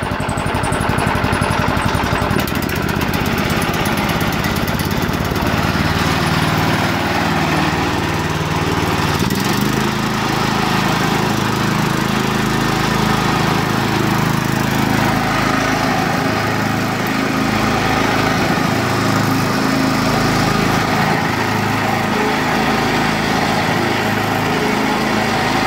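A small engine powers a homemade rock crusher, running steadily and loudly close by. It makes a continuous buzzing, rattling drone like a lawn mower and holds the same level for the whole stretch without any break.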